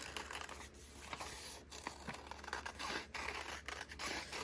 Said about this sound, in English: And then we will fussy cut him out. Not fussy cut, just cut him out